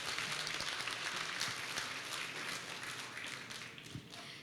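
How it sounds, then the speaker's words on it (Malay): Audience applause at a school conference hall, a steady wash of many hands clapping that fades slightly toward the end, heard alone without talk. "berikan satu tepukan yang gemuruh untuk mereka"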